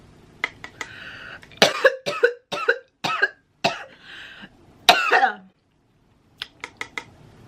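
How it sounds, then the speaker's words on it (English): A run of sharp, bursty coughs, several in quick succession with short pauses, then a few lighter coughs near the end, close and loud. "why am I coughing so much?"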